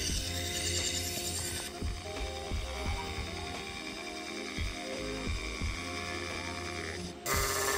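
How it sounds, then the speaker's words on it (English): Electric fabric cutting machine running with its blade moving through cloth, a steady mechanical whir and clatter throughout, with brief changes as it starts and stops. "Then I'll just press this and the blade starts moving."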